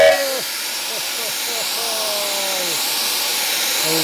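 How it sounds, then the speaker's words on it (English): A steady, loud hiss of escaping steam from a steam engine driving a Ransomes thresher for traditional threshing in Hoxne, Suffolk, with higher wavering tones and voices cutting in over it. "they're going to connect up this steam engine now."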